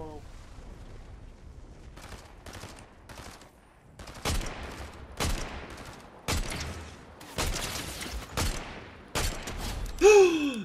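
Gunfire in the Fortnite video game during a headshot: a run of sharp, loud shot bursts in quick succession, some rapid and clustered, with game effects between them.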